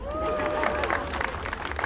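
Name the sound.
audience applause at a clown show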